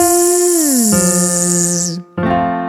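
A voice sings a buzzing, sustained "zzz" that slides downward in pitch, holds, breaks off briefly, then resumes on a steady note.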